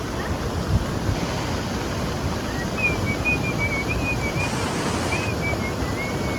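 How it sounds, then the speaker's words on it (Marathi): Heavy rain pours down on a village with a flooding river and fields, a dense, steady roar of hiss throughout with a faint wavering whistle-like tone above it. "पाऊस कंटिन्यू झाला. आता वाढला परत वाढला पाऊस."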